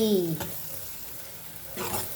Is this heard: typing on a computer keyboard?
no